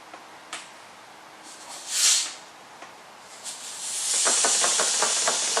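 Air escapes through the silicone vent flap of a vacuum storage bag from a home storage kit: a short hissing burst, a few faint clicks and crinkles, then a sustained hiss with light crackling toward the end, close and moderately loud.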